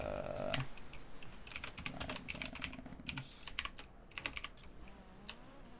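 Rapid typing on a computer keyboard, a steady run of close, crisp key clicks with brief pauses, entering a file path for a Rocket League replay.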